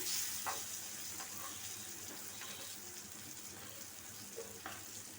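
Vegetables frying in a hot pan, a steady close sizzle with faint scraping and stirring sounds, no talking.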